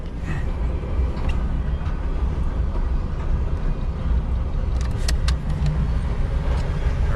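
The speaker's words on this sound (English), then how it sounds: "Wait for the train to go by" A train rumbles past close to a parked truck, a loud, steady, broadband roar that holds without a break for the whole stretch, with no voices.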